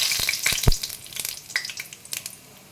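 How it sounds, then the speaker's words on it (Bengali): Cumin seeds tempering in hot mustard oil in a kadai, giving a sharp crackling sizzle with several quick pops early on that thin out into a lighter, fading fizz; no voices. "একটু জিরে ফোড়ন দিয়ে দিলাম।"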